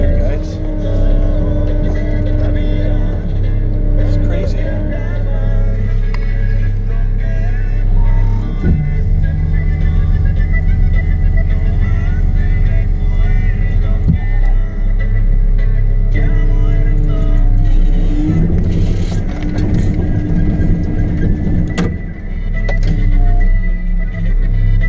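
A tree shaker machine's engine held at full throttle, a loud sustained mechanical roar with strong harmonic drone and rattling bursts, with people talking over it.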